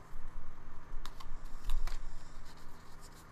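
Soft, quick papery rustling and light clicking of a tarot deck being shuffled, a few brief bursts over a low background hum, no voices.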